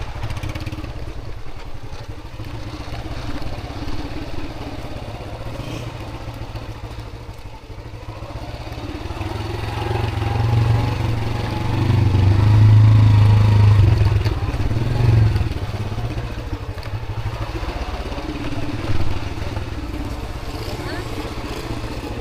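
A motorcycle rides down a steep, dangerous descent in Pakistan, its low engine drone steady and close, swelling midway, with rattles and scrapes from the rough ride while people talk over it.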